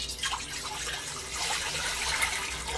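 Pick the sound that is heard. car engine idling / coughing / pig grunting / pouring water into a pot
pouring water into a pot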